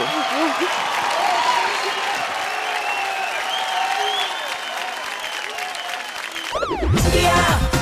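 Loud applause and cheering from a studio audience after a dance performance on a televised dance competition, with music tones and voices over the clapping, then a burst of music near the end.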